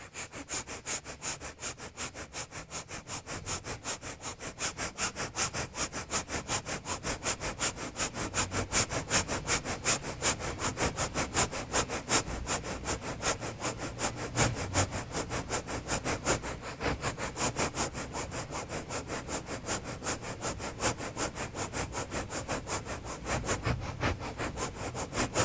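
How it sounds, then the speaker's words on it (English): Rapid, steady nasal breathing in yoga breath of fire during a Kundalini warm-up, with quick rhythmic sniffing pulses repeating evenly and continuously at close range, with no voice over it. "Breath of fire."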